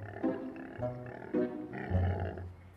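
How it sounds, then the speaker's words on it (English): Sick Stegosaurus dinosaur making low growling grunts, three or four drawn-out guttural bursts in a rough rhythm, fairly close and moderately loud with no talking. "The sound of a sick Stegosaurus, to be exact."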